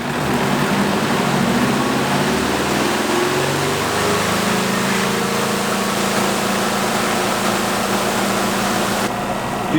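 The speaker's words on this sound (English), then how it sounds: "Turn the spinner on." A Della portable washing machine's spinner runs steadily with half a load inside, a close, continuous motor whir with a low rising hum that settles into an even drone.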